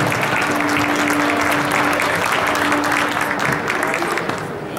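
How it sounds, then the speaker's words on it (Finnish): A studio audience at a dance competition applauds the couples, with dense, sustained clapping that fades slightly toward the end, over a low hum of crowd noise. "Ja näin annetaan raikuvat aplodit jälleen pareille."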